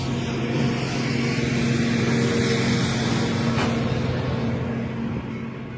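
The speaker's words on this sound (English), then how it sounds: "Tractors are going by." Heavy tractor engines rumble steadily past at close range during harvest season, a loud continuous low drone with a wash of broadband noise and no voices.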